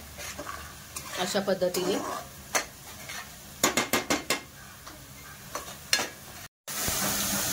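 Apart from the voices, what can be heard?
onion paste frying in oil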